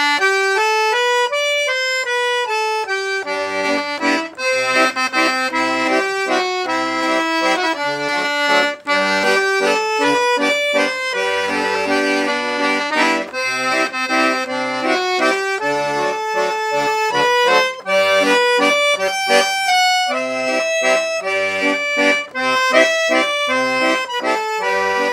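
A vintage Hohner Morino piano accordion with triple musette reeds plays a continuous melody over bass chords, loud and close, with no pauses and no voices.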